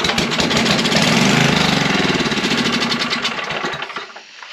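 Old portable generators run after starting, a loud, close, steady mid-pitched engine drone with a fast pulsing chug that eases off and fades near the end.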